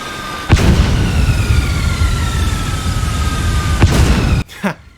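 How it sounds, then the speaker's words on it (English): Aerial strike explosions in Metal Gear Solid 5 boom heavily twice, each deep blast followed by a long rumbling roar and a descending whistle, with a sharp final burst after a sudden drop. "you can also request an aerial strike on the location of your choosing"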